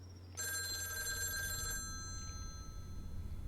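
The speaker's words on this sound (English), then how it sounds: "The phone is ringing." Telephone ringing in the video game Lake, a single bright electronic ring that starts sharply, holds for over a second and then fades out over a low steady hum, with no speech.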